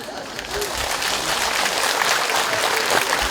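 An audience at a Buddhist talk claps in a dense, continuous patter that holds steady and slightly builds over a few seconds, with no voices over it.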